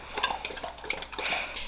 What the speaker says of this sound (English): buddy is drinking water